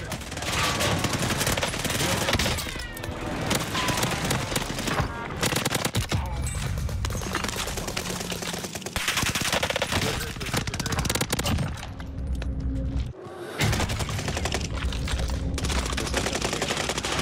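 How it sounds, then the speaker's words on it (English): Rapid automatic gunfire from an LMG build on Fortune's Keep in Call of Duty Warzone, dense bursts of shots crackling almost nonstop over a busy game mix, with a short lull near the end before firing resumes. "I'm taking fire west"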